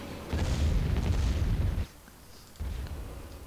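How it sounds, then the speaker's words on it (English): Heavy explosions from a bombing run roll across a battlefield in the Star Wars Empire at War game, a long loud rumbling blast followed by a brief lull and a second booming impact. "Might as well send in a bombing run there."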